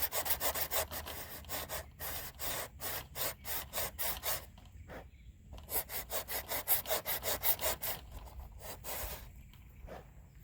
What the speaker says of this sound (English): Scrape away the excess tissue there.